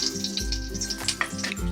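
Mustard seeds sizzling and popping in hot oil for a Goan-style poha chivda, a steady close-up crackle with bursts of sharp pops spread across the whole moment.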